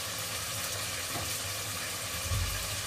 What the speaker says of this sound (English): I'm going to sear on both sides.